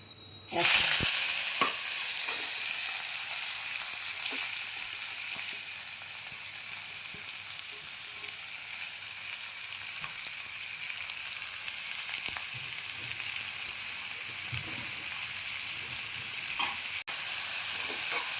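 Onions, tomatoes and green chilies go into a hot pan for a dry prawn curry and sizzle loudly and steadily at close range, with faint occasional stirring and scraping under the hiss.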